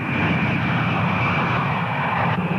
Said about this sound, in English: with smoke clouds from its jets indicating the tremendous power generated at takeoff